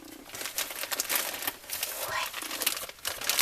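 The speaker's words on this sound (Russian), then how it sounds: "Сейчас я распаковываю, смотрю, что ко мне все-таки пришло." Plastic packaging crinkles and rustles continuously as newly arrived dolls are unpacked. The crackling is close and fairly loud, with a few sharper crumples.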